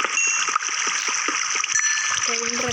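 Water placed in a video game inside an underground cave spreads and flows with a continuous splashing trickle, marked by soft repeated ticks, while a voice briefly sounds near the end.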